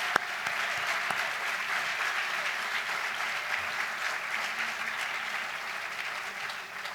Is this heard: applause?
yes